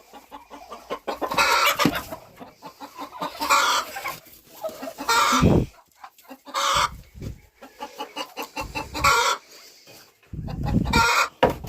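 Loud clucking and squawking from turkeys and chickens in a coop, close by, with overlapping calls and gobble-like bursts coming in waves, no talking.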